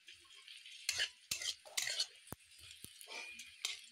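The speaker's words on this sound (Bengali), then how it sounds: "পেঁয়াজটা ভালোভাবে নাড়াচাড়া করতে হবে।" Chopped onions being stirred in a pan for coriander chicken curry, heard as intermittent scraping sweeps and sharp clinks of a utensil against the pan over a faint sizzle.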